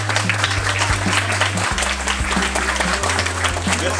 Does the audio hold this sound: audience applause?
yes